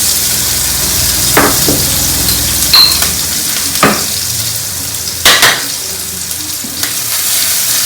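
Mustard seeds, crushed garlic and green chili fry in hot oil, giving a loud, continuous sizzle. Scattered scrapes and clinks of a utensil against the pan break through now and then, and no voices are heard.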